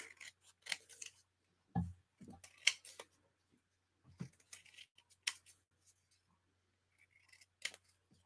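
Scissors snip and trim paper for an ephemera craft base, with several separate crisp cutting strokes at irregular intervals, close and fairly quiet, with no talking.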